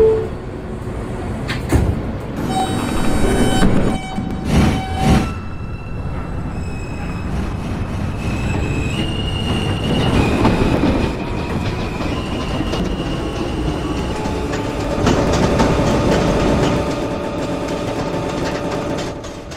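A Queensbound M local train in a Roblox subway game, loud continuous rumble of a running train with rising and falling motor tones, rail clatter and brief squeals, heard alone without voices.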